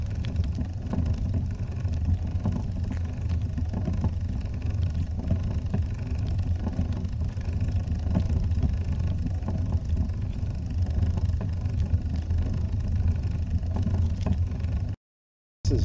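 A trike engine drones steadily in its lowest gear on a warm-day ride, a low continuous rumble mixed with wind noise, cutting out briefly near the end.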